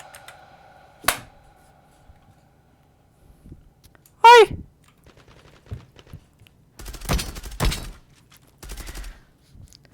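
Gunfire from the online shooter game Zula: a few sharp shot bursts and rapid volleys scattered across the clip, separated by quieter gaps with brief game effects.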